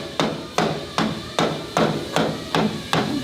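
Eight evenly spaced hammer blows on metal during a rebuild of the Hoonicorn car, each a sharp ringing clang that fades quickly, close and loud with no talking.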